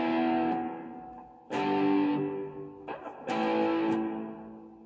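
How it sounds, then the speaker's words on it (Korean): Electric guitar ringing out with a reverb effect switched on, sustained chords swelling and decaying into a spacious wash, struck again twice with long tails and no talking. "이 정도 소리가 났다면은 리버브를 켜주게 되면은"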